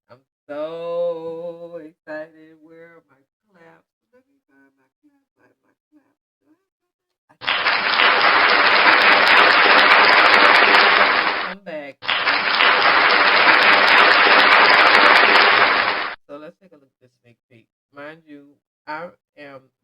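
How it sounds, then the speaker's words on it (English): Applause in a talk-show-style commentary: two loud, dense bursts of clapping, each lasting several seconds with a brief gap between, following a spoken voice and followed by more talking. "Where are my claps?"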